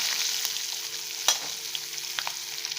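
Asafoetida and green chili sautéing in hot oil give a soft, steady sizzle with faint stirring clicks and one sharper scrape, close by and quiet, with no talk.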